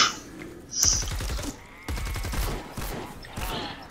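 Rapid burst-fire gunshots in the Fortnite Save the World video game, several quick rattling volleys in short strings with brief pauses between them, close and fairly loud over faint game ambience.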